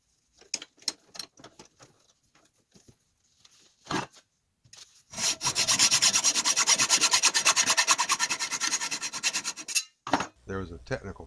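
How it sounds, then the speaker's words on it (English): A hand reamer opening up the hole in an alabaster lamp: scattered scraping strokes, then a sustained rhythmic rasping grind of several seconds, followed by a few clicks and knocks, close and fairly loud. "So I'm going to open this up just a bit with this reamer."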